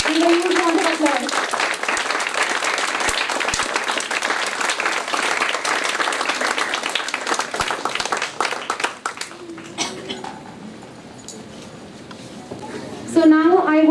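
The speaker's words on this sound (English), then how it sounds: "Give a huge round of applause." School annual day audience gives long, loud sustained applause and clapping with crowd noise, fading toward the end as voices and a musical tone come in.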